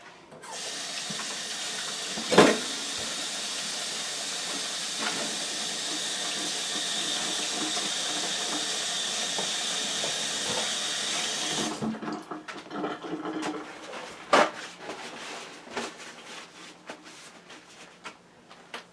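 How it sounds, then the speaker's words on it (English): Water runs steadily from a kitchen tap while hands are washed, a loud continuous splashing hiss for about twelve seconds with a couple of clunks, then the flow stops, leaving quieter handling noises and a knock. "I'm gonna wash my hands"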